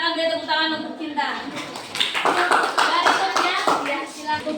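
A classroom of students claps hands for a classmate, a burst of scattered, fairly close clapping mixed with voices talking over it.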